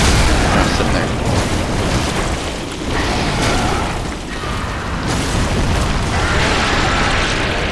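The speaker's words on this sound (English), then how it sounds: "So those fire bombs, they do come in handy." A fire bomb bursts in Dark Souls 3 with a loud, sustained roaring blast. Dense crackling noise and rumbling continue through the stretch, with a few brief dips.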